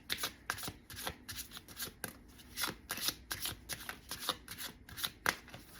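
A brand-new deck of playing cards is shuffled repeatedly and close up, producing rapid rhythmic riffling bursts that repeat roughly every half second, with no talking.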